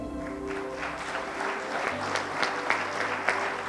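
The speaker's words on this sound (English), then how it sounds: "a resounding applause and warm congratulations on their new roles" Warm, steady applause from a seated audience at a Rotary District 3011 event in Dehradun, continuous clapping of moderate loudness with a few sharper claps standing out.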